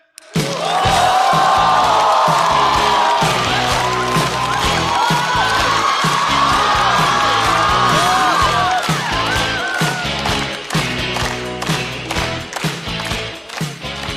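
A stand-up comedy studio audience breaks into loud sustained applause and cheering to welcome esports commentator Guan Zeyuan to the stage. The dense clapping holds steady at full volume throughout.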